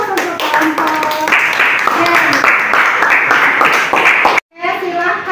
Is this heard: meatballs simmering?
no